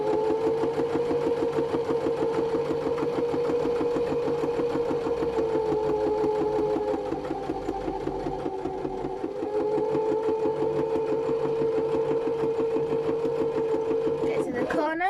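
A sewing machine stitches a tote bag, running steadily with a fast mechanical whir, easing off briefly midway and then stopping near the end; no talk is heard.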